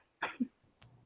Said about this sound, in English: You can hear him coughing in the background